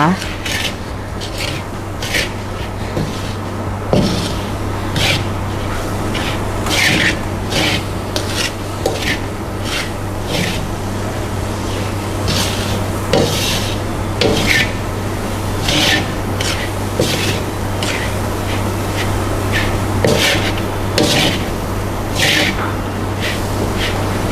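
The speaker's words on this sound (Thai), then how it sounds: "ใช้กระทะทองเหลืองผัดเนี่ย" Savory filling for khanom tian, seasoned with sugar and white soy sauce, being stir-fried in a brass pan: steady, rhythmic scraping and rubbing strokes repeat over a low constant hum, with no talking.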